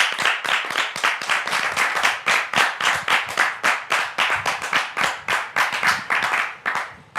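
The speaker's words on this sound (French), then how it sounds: "Merci de le recevoir donc sous vos applaudissements" A studio audience claps to welcome a guest onto the stage, a dense run of rhythmic, even handclaps that rises and falls in waves and stops near the end, with no talking over it.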